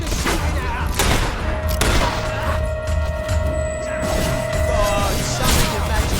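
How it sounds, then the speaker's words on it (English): Rapid bursts of gunfire in the Fable 3 video game, loud crackling volleys running throughout with game effects and voices mixed in. "Suckers shooting at us!"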